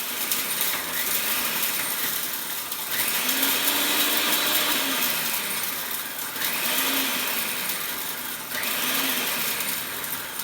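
A food processor whirs steadily while chopping garlic for hummus, a continuous close motor drone with grinding, rattling texture and a few rising-and-falling swells in pitch as the blade works, with no talk.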